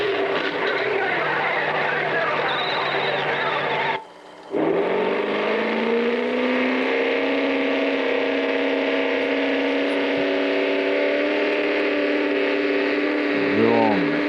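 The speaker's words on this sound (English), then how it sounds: "Sounds like an expensive engine to me." A loud car engine roars steadily, its pitch climbing and settling into a sustained high rev after a brief cut, with faint voices underneath.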